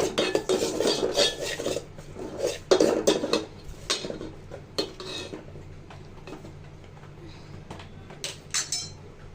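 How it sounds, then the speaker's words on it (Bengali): A spoon scrapes and clinks steadily through semolina as it roasts in a pan with ghee, close and lively at first, then easing into softer, sparser stirring and occasional taps against the metal. "তো সুজিটা লাল করে ভেজে নিব"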